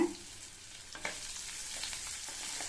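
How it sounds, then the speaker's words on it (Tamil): Onion sautés with garlic in a pan for a ridge gourd side dish. A soft, steady sizzle runs throughout, with a few faint stirring scrapes, quiet and unaccompanied by speech. "இந்த வெங்காயம் வதங்கி ஓரளவு அதனுடைய கலர் மாறி வரட்டும்"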